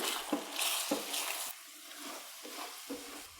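An egg with pepper sizzles softly in a pan and is flipped over with a spatula, producing a few close scraping strokes over a low, steady frying hiss, with no talk.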